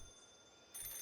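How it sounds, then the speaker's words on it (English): A telephone rings in the video game Paranormasight: The Mermaid's Curse, a faint, thin tone that swells louder toward the end, with no voices. "Oh, it's just the phone. That scared me."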